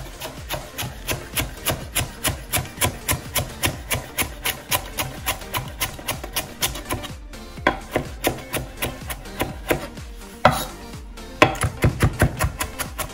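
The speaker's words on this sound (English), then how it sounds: "So you start off by chopping it up." A knife chops cilantro rapidly on a cutting board, a steady run of crisp close knocks with a few brief pauses and a scraping gather near the end.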